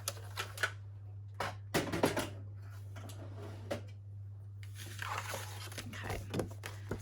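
Vellum paper is cut for junk journal pockets with a series of sharp crisp snips and rustles, close up over a steady low hum, with a brief pause before a denser run of cutting.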